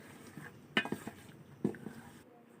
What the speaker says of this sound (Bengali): ডাল আর আলুগুলোকে ভালো করে মশলার সাথে মিশিয়ে দিচ্ছি